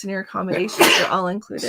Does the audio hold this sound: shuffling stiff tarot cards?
no